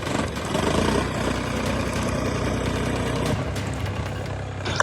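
A tractor engine runs while ploughing a farm field, giving a steady, close, low throbbing rumble that holds an even level throughout, with no talk over it.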